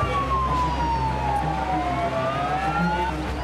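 Ambulance sirens wail loudly near a road, a single sliding tone sweeping slowly down and back up over a constant rumble of traffic.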